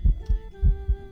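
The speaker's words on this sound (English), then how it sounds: "Heart beating?" Heartbeat during a ghost hunt, four deep, muffled low thumps in a steady lub-dub rhythm over a faint electronic hum, with no talking.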